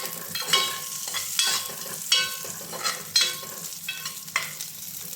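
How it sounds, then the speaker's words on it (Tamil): Garlic cloves and a pinch of fennel seeds sauté in hot oil for a black pepper chicken gravy, giving a steady sizzle with repeated bursts of stirring and scraping, close and fairly loud, with no voices. "ஒரு 10 பல்லு பூண்டு, ஒரு பிஞ்ச் அளவுக்கு சோம்பு சேர்த்துக்கலாம். சேர்த்து 1 நிமிஷம் இது நல்லா வதக்கிக்கலாம்"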